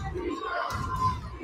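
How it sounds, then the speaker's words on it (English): A high school basketball crowd in a gym rises into a swelling roar of cheering and shouting over a short burst, a dense, reverberant mass of voices at moderate loudness. "The Union Mine crowd is coming alive right now."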